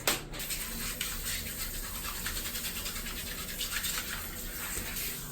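A brush scrubs an air conditioner filter clean in a steady, close, continuous rasping that runs the whole stretch with small rhythmic surges and no speech.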